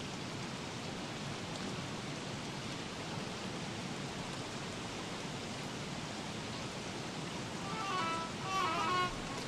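Steady hissing rain from the video game Don't Starve, a dense even wash of patter holding at a constant level throughout, with a brief faint chirpy sound near the end.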